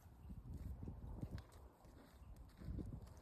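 A relaxed horse walks at an easy pace, its hooves clip-clopping in a steady, uneven rhythm of soft, fairly faint knocks on the ground outdoors.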